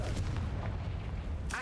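Confringo blasting curse explosion from Hogwarts Legacy, a heavy booming blast with a rumbling tail, followed by a sharper crackling burst near the end.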